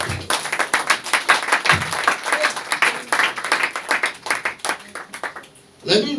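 A church congregation applauds the Lord with rapid, uneven clapping that carries on steadily for several seconds, followed by a short burst of voices at the end.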